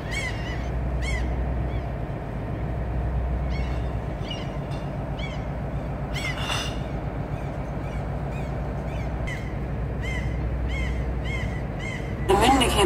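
Seagulls calling over a Norwegian fjord (Geiranger) on a cruise boat, repeated harsh squawks at intervals over a constant low engine drone, fairly loud and near.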